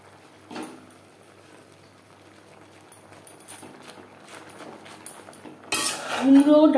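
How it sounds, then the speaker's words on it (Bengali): Pumpkin stems and Malabar spinach leaves being stirred in a cooking pan, with soft metallic clinks and scrapes of a utensil against the pan that grow louder and busier toward the end. "কুমড়ো ডাঁটার সাথে পুঁই শাকের পাতা বেশ ভালো করে মিক্সড করে দেব।"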